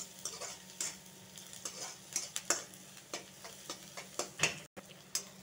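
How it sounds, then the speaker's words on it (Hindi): Onion and garlic fry in a pan with a steady close sizzle while a spoon stirs and scrapes in irregular clicks and knocks, with no talking. "प्याज, ऑनियंस एंड लहसुन, गार्लिक, जब तक भूनेंगे जब तक ये अच्छी तरह से सुनहरा ना हो जाए,"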